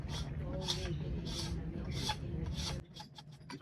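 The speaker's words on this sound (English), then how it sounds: "Slowly, slowly rubbing, easy to remove the second stick." Cinnamon bark being rubbed by hand to strip off its layer in Bentota, Sri Lanka, giving a steady, close rasping scrape in repeated strokes, with faint talk in the background before it eases off near the end.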